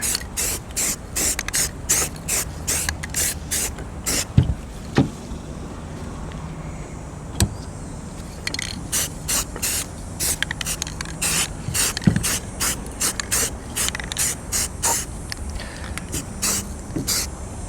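Short bursts of spray paint hiss from a can as a rifle is coated green, irregular and close, separated by small clicks and pauses with faint background noise.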